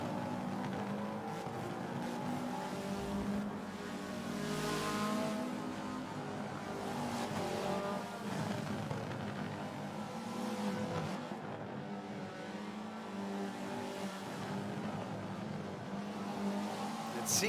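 A race car in a racing game laps the Dubai Mountain Circuit in reverse, its engine droning steadily as it revs through the corners while a voice comments over it.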